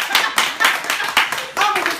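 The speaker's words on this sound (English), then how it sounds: "I'm going to just clap that for myself." Several sharp hand claps in an irregular burst, close and loud, with a few voices murmuring underneath at a Palm Beach, Florida gathering.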